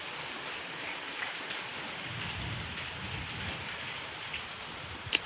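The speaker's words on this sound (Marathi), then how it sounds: "किती पाऊस झाला आहे का? अजून चालू आहे पण आता कमी झालं." Rain falls on open farmland, its easing downpour a steady, even hiss of drops with a few louder patters and one sharp drip near the end, and no voices.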